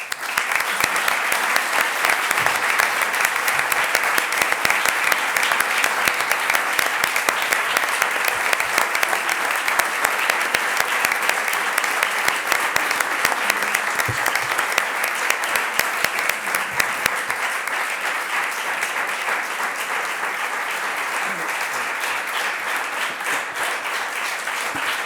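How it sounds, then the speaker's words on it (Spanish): A long, warm ovation fills a hall after a speaker finishes an evening talk on shared artistic and cultural heritage, a large audience clapping steadily and loudly, easing slightly toward the end, with no voices on top. "el largo y sentido aplauso que se le ha dedicado a nuestro compañero"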